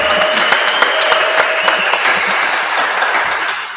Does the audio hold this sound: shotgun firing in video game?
no